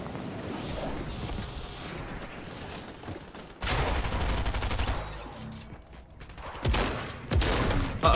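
Gunfire in the Fortnite video game: bursts of rapid shots come in loud clusters, with quieter stretches between, and a few sharp single reports near the end.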